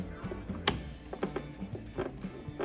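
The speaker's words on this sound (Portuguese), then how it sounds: "Normalmente são 4 cliques, é que essa impressora já é antiga, então ele encaixa mais facinho, acabou fazendo um clique só." A single sharp click of an ink cartridge seating into an old Epson TX-series printer, followed by faint plastic rattles and mechanical taps at close range, with no talk.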